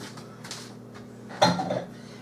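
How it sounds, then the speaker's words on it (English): Ceramic bowl set down in a kitchen sink, one short clatter of dish contact standing out over a quiet kitchen background hum. "Put this bowl in the sink."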